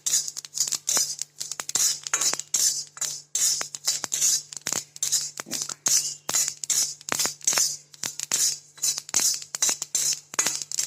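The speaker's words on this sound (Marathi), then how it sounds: "आता हे तीळ भाजून घेते तीळ तळतळ उडतेत बरं का" Sesame seeds roast in a pan over a low flame, giving off rapid, irregular crackles and dry ticking pops that continue the whole time over a faint steady hum.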